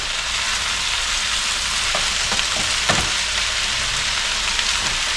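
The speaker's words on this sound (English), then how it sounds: "I'm gonna fry these batches up, and every now and then I'm stirring them" Batches of potatoes fry in a pan with a dense, steady sizzle, broken by a few scraping knocks from occasional stirring.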